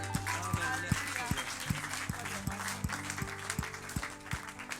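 Church congregation applauding at a Sunday service, steady dense clapping spread through the room, with low sustained organ or keyboard tones and rhythmic beats underneath.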